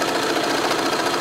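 A sewing machine runs a steady, fast, close-up whirring stitch while sewing quarter-inch elastic into a cloth diaper, a continuous even mechanical chatter with no talk.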